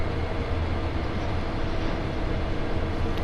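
A long freight train rolls steadily past on the Sand Patch Grade in Train Sim World 2, producing a loud, continuous low rumble of wheels and railcars with no breaks or speech.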